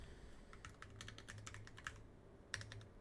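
Quick bursts of keystrokes on a computer keyboard, close and quiet, tapping in an uneven rhythm with a brief pause before a final few presses.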